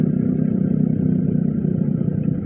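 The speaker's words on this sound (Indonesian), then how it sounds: "gua sebenarnya gak berani guys ini pakai knalpot brong" A motorcycle fitted with a loud aftermarket knalpot brong exhaust idles close by, giving a steady, throbbing low rumble with a fast regular pulse that runs through the whole stretch, with no talk over it.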